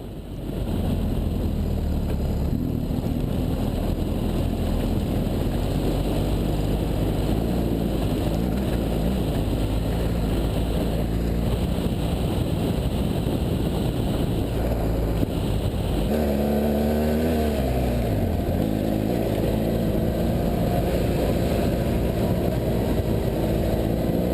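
A BMW F800GS motorcycle ridden fast off-road on trails, its engine droning steadily and loudly with shifting pitch, and wind rush and rough terrain noise continuing throughout.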